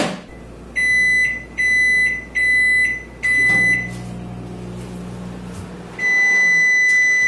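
A microwave oven cooking ratatouille gives out a series of loud, evenly spaced electronic beeps, then a low running hum, then one longer beep. No one speaks.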